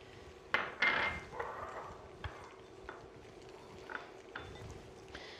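Lemon spaghettini tossed with cheese and parsley in a pan: a couple of sharp utensil clinks and scrapes near the start, then softer scattered taps and stirring, no talking.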